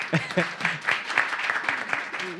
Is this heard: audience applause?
yes